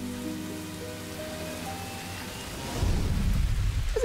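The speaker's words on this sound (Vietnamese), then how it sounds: "trời mưa lớn quá" Heavy rain pours in the Robocar Poli animated cartoon, a dense loud hiss that breaks in suddenly partway through after soft tonal music.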